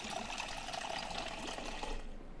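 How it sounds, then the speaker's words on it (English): A water bottle fills in the video game Project Zomboid with a short, steady watery pour that stays close and continuous, then thins out near the end. "Fill the bottle."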